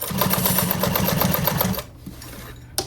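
A sewing machine stitches a pool tote bag in a quick, steady run for about two seconds, then stops, leaving quiet handling and a sharp click at the end.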